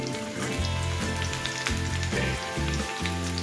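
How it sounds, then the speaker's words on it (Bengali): Cut eggplant pieces tumble into potatoes frying in a pan, making a continuous crackling sizzle with faint patters over steady low tones. No one speaks. "এবার এর মধ্যে আমি কেটে রাখা বেগুনগুলোকে অ্যাড করে দিচ্ছি।"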